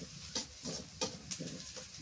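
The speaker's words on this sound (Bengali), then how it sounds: "পেঁয়াজটা লাল লাল করে ভাজলে তরকারিটা মজা লাগে" Onions frying in a pan for a curry, a steady hiss broken by several short stirring scrapes at a close distance, with no voices.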